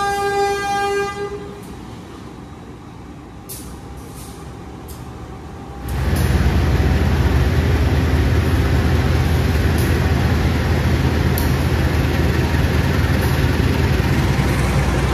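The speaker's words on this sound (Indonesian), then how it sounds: "Kita pakai lokomotif tua hari ini menuju ke arah Jogja." An old 1977 locomotive hauls the Fajar Utama Jogja passenger train from Pasar Senen toward Yogyakarta. Tonal horn-like notes sound first, then after about six seconds a loud, steady, close rolling rumble of wheels and engine continues to the end.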